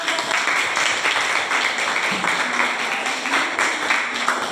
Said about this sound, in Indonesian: kalau sudah kasih tepuk tangan untuk